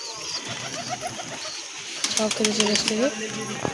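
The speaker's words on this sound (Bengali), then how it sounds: "সব খেতে চলে এসছে দেখুন পায়রাগুলো" Pigeons coo and flutter nearby while gathering to eat scattered wheat, soft repeated calls with brief wingbeats, and a person talking over them.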